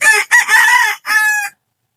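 A labuyo-line fighting rooster crows once, close and loud, in a short broken call of a few syllables ending in a drawn-out note, followed by silence.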